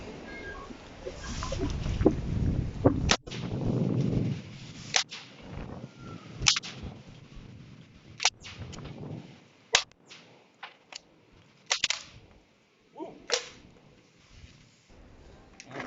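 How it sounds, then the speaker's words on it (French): HDR 50 revolver firing rubber metal-core balls at plywood sheets outdoors: a series of sharp, separated cracks and snaps spread irregularly across the stretch, fairly near, with no talk. "Alors, première salve sur le premier contreplaqué."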